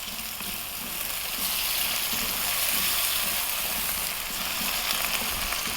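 Garlic ginger paste and fresh chili frying in a pan for a potato mushroom curry, a steady close hiss and crackle of sizzling oil running without pause.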